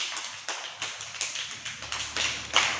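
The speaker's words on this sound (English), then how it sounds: "Then clap your hands." Hands clap in a quick irregular series of about a dozen sharp, close claps, the last few slightly louder.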